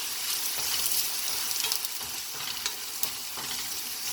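Curry leaves and onions frying in hot oil give a steady, dense sizzle that fills the whole stretch, with a few sharper crackles and faint stirring scrapes, close up and with no voices.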